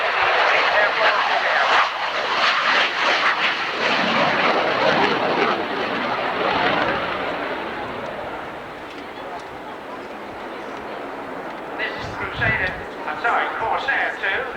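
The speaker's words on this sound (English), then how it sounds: "the Corsair II, carrier fighter of the Portuguese Air Force" Corsair II carrier jet fighter of the Portuguese Air Force roaring through an airshow display, a loud sustained jet rush that slowly fades, then swells again near the end, with commentary talk running over it.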